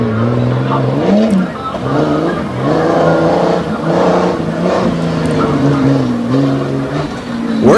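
A tough truck engine roars and revs hard through repeated rising and falling pulls during a Renegade monster truck race run in Franklin, Pennsylvania, loud and close with a faint voice underneath.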